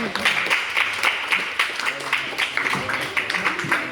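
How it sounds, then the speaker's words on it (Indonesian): Audience applause at a speech competition, a steady round of many hands clapping with a few voices mixed in, continuous and near. "tepuk tangan dulu lah"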